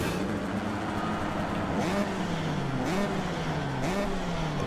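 A Husqvarna 125 two-stroke motocross bike in MXGP Pro buzzes steadily close by, its engine pitch dipping and climbing in three distinct rev swells as the throttle is blipped.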